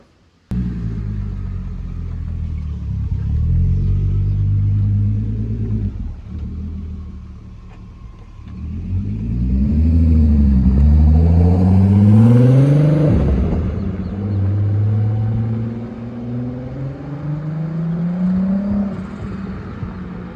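A turbocharged VR6 engine in an MR2 Roadster revs up and down in loud, sustained swells, its pitch rising and falling several times with a deep rumbling tone.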